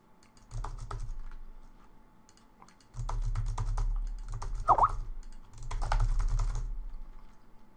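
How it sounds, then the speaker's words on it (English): Someone types on a computer keyboard in several bursts of quick, close key clatter, with short pauses between them. One brief high squeak breaks in midway. "I'm just typing whatever in here because it'll just be faster."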